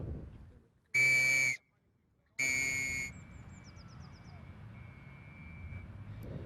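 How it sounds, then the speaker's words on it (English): Two shrill blasts from a Victorian police whistle, each under a second long, ring out with a short gap between them over quiet outdoor background noise, tested for audibility at quarter-mile distances. "We're testing the Victorian police whistle at quarter-of-a-mile intervals"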